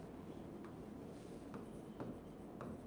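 Chalk or marker scratching on a board during a Bengali chemistry lecture on electrochemistry, with soft strokes and faint taps in a steady rhythm under a constant room hum, and no one talking.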